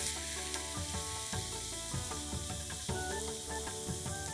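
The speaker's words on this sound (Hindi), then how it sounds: "अब हम प्याज को अच्छी तरह भूनेंगे।" Onions fry in a pan with salt for a spicy chicken bhuna masala, a steady close sizzle running throughout with scraping stirs and light clinks of a utensil, no voices.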